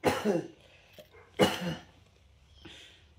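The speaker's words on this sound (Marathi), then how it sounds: "खोकला खोकला" A person coughs twice in sharp bursts, with a faint throat-clearing sound between them, close by in a quiet room.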